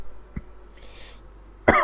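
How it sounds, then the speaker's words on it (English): A person coughs twice: a short cough early on, then a louder, harsher cough near the end, with quiet game background in between and no talking. "I apologize again for all the coughing and sniffling"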